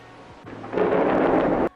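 A thunder sound effect in the game Lured In rolls in as a loud, dense rumble for about a second, then stops with a sharp cutoff over quiet background music.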